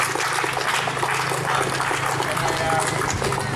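Applause and cheering from a crowd at an outdoor Monday peace vigil in Klagenfurt, a dense continuous clatter of clapping for a few seconds.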